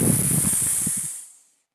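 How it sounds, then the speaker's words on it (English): A loud, sharp hiss sound effect in a story narration, a sustained airy rush with rumbling underneath that cuts off and fades away after about a second. "hiss!"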